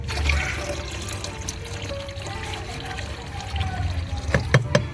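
Liquid pour while mixing a homemade organic pesticide from cow-dung cakes, neem, cannabis, datura and aak leaves: a running, trickling pour into a container with a few louder splashes near the end.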